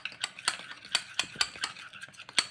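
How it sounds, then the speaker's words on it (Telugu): Flour and oil are mixed in a small bowl for rumali paratha dough, with quiet rhythmic taps and scrapes of a spoon against the bowl about twice a second. "ఇలా కొంచెం పిండి అనేది వేసుకొని మొత్తం కూడా కలిసేలాగా కలిపేసుకున్నాము"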